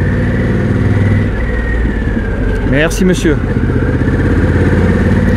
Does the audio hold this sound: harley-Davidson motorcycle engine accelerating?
yes